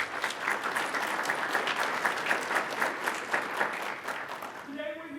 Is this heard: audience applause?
yes